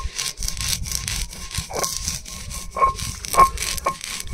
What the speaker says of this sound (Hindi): मैंने भून ली है तिल, और दो साजी बना रही है चटनी और मुझे जिम्मेदारी दी है तिल पीसने की